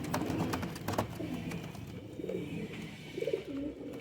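Kasuri breed pigeons coo close by in soft, repeated rolling phrases, with a few low murmuring calls overlapping and a quiet background of shuffling.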